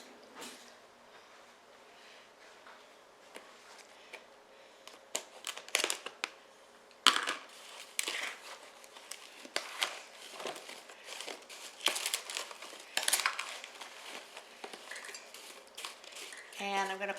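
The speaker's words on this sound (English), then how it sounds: "Let me get a spoon to make sure it's well mixed." A spoon clatters and scrapes through sliced apples in a bowl for apple crisp, with crinkly rustling and irregular clinks building louder after a quieter opening, close by and with no talking.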